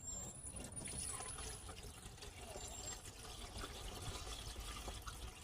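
Liquid pouring steadily into the tank of an old push mower during carburetor O-ring repair work, a close continuous trickling and splashing stream that stays at one level throughout.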